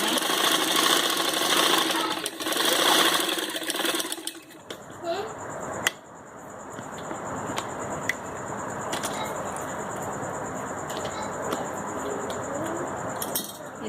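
A sewing machine stitches a turban close by, a steady mechanical whir running under a spoken voice, with a few light clinks partway through.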